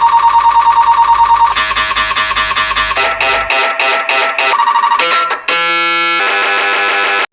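Loud, continuous electronic tones from an MRI scanner during a scan pulse in rapid repeating patterns, shifting between several distinct buzzing and beeping sequences, mechanical and insistent, with no voices.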